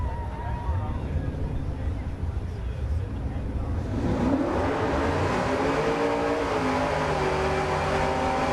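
Drag racing cars roaring down a dragstrip at Great Bend, Kansas, including a Fox body, with engine noise building louder and revving midway through, under steady crowd-level background and occasional announcer talk.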